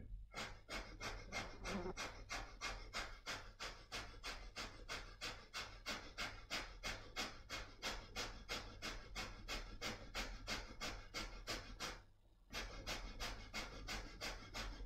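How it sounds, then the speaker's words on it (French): Rapid kundalini yoga breath of fire, fast rhythmic forceful exhalations through the nose repeating steadily for about twelve seconds, briefly pausing, then resuming, close and clear with no talking. "Respiration du feu."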